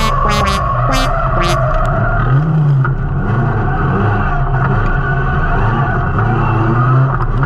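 Lotus race car running on the Lédenon circuit during private practice, a loud continuous engine roar with wavering pitch and a few sharp bursts at the start.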